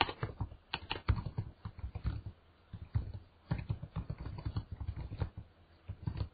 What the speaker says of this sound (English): Let me just switch to typing.